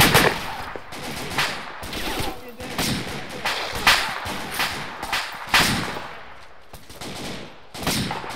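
Repeated machine gun bursts crack loudly in an Arma battle around an Afghan village, rapid rhythmic volleys with short gaps, with voices talking over them.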